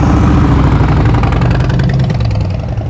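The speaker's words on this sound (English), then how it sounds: "Even as he's pulling away, his throttle is chug-a-lugging." A motorcycle engine chugging unevenly at low revs as the rider pulls away slowly during slow-speed riding practice, loud and close with a rough, lumpy throb.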